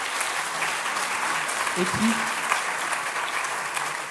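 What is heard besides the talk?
audience applause for a student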